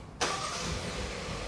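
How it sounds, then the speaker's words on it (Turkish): A Kia Sportage engine starts, a sudden loud crank that catches into a steady, close running engine noise with no talk. "Bir arabayı çalıştırın"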